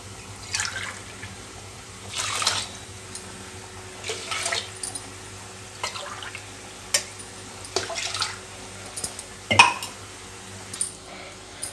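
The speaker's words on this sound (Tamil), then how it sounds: "5 டம்ளர் தண்ணி இதில் சேர்த்துக்கிறேன்." Water splashes and trickles in short intermittent pours, about five tumblers into a pot of rice for puli sundal, with occasional clinks of a vessel, close by over a low steady hum.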